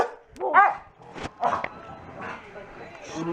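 A dog barks a few times in short yips and woofs amid a busy home, with people talking over and between the barks at close range.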